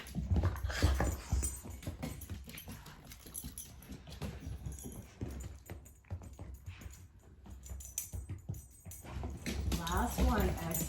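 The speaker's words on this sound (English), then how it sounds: "So I guess that my dog's decided that it's playtime." A dog at playtime during a restorative yoga session, barking and whimpering in bursts with some rhythmic scuffling over a steady background hum, loud and close throughout.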